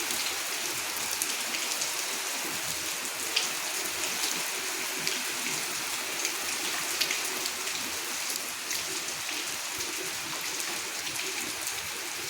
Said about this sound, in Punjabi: ਲਓ ਜੀ ਇਧਰ ਮੀਂਹ ਬਹੁਤ ਪੈ ਰਿਹਾ